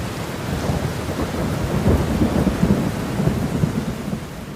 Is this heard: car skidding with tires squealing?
no